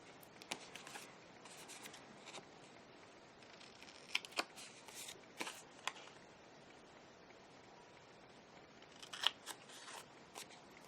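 Scissors trimming the corners off a piece of card, with a few quiet, crisp snips spread out over a soft background hush and no talking.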